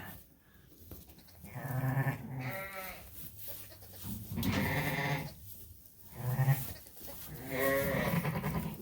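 Sheep and lambs in a lambing pen bleat repeatedly, four or five drawn-out wavering cries at a close-to-moderate distance, separated by brief pauses with faint shuffling.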